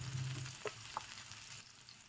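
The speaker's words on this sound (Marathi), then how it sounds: "ऑइल आपलं चांगलं गरम झालं आहे. याच्यामध्ये आपण आता कांदा ॲड करूया. कांद्याला चांगलं फ्राय करून घ्यायचं पहिले." Onion fries in hot oil for a restaurant-style fish masala, giving a soft, steady sizzle close by with a couple of brief stirring clinks and no voices.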